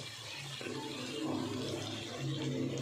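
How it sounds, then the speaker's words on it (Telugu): A glass of water poured into a pan of brinjal, potato and tomato curry, a continuous splashing gush close by, steady for a few seconds with slight swells. "గ్లాస్ నీళ్ళు వేసుకుంటున్నాను"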